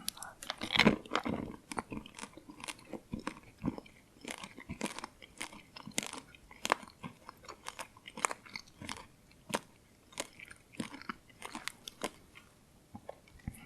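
Close-up crunching and chewing of Norwegian crunchy candy balls, a rapid irregular series of sharp crackly bites, loud and near, with no one talking.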